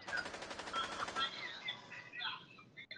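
Rapid automatic gunfire from a hard-recoiling gun in a PS4 shooter, a dense burst of close shots for about a second that gives way to scattered, thinner game sounds and chirps.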